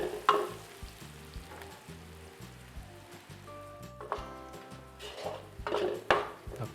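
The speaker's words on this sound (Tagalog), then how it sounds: "And now we will add our onions. Saute it together with garlic." Chopped onions and garlic sautéing in a pan, a soft, faint sizzle mixed with clinks and scrapes of a utensil stirring against the metal, occasional louder knocks, no voices.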